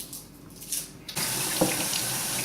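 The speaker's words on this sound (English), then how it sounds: "Always rinse your vegetables." Kitchen tap turned on to rinse vegetables, quiet room sounds giving way to a steady close rush of running water with a brief splash as something passes under the stream.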